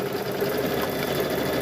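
A sewing machine runs steadily while stitching a quarter-inch seam around a 12-inch quilt square, a close, continuous mechanical whir with no talk.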